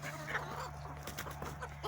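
A rooster in a backyard poultry coop, among hens, makes low clucking and throaty calls against a steady electrical hum, fairly close but not loud.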